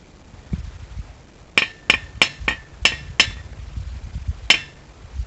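Seven sharp metallic taps on the heavy steel body of a 350-pound safe, struck in a quick irregular cluster and then one last tap after a pause, close and ringing briefly, with no talking.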